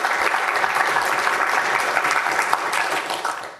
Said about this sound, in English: Give Jonathan Turner a big hand of applause.